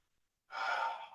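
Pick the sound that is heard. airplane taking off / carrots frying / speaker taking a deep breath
speaker taking a deep breath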